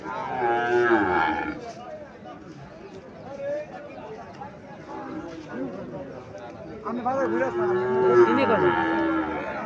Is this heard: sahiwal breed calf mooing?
yes